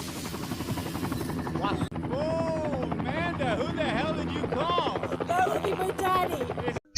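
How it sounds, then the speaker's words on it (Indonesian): A helicopter lands close by in a film scene, its rotor beating in a steady rapid chop that runs under people talking and a music score. "ia melihat helikopter yang mendarat tepat di hadapannya"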